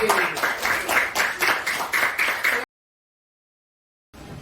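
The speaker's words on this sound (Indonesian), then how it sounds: "Tepuk tangan sekali lagi" Students in a classroom clap together in a quick, steady rhythm, a run of evenly spaced group claps for a couple of seconds before it cuts off to silence.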